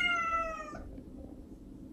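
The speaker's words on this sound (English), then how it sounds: "that is my cat." A domestic cat gives a single clear, drawn-out meow, close and fairly soft, then fades into quiet room tone.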